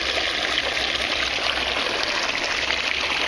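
Steady streams of water splash from six holes down into an aquaponics grow bed, a continuous close trickling and gushing wash with no talk.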